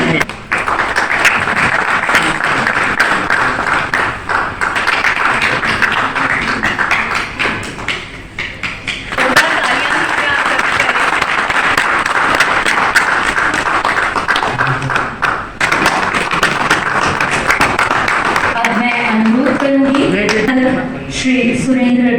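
An audience at a national honour award ceremony gives long, dense applause that rolls on steadily, loud and full, with brief dips and a voice speaking over it near the end.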